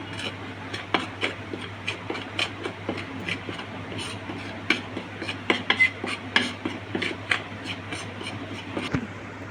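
A spoon stirs chili powder and jal jeera into a mango drink, clinking briskly and repeatedly against the glass, close and fairly loud over a steady low hum, with no one talking.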